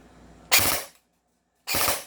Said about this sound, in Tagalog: Halimbawa, nilagay ko sa 3, 3 putok.